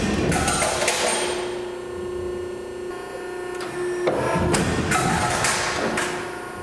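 A pedal-operated metal shear machine cycles through a cut with loud, sustained mechanical droning, punctuated by heavy clunks and thuds as the blade drops and resets, all close by.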